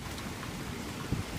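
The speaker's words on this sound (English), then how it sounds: "It's raining." Steady rain falls outdoors, a soft continuous wash of drops with a brief louder patter near the end, heard alone without voices.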